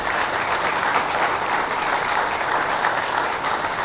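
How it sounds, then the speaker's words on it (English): Audience applause at a US and Philippine Army exercise closing ceremony, an even, sustained wash of clapping from a large crowd, heard alone with no voices. "Round of applause."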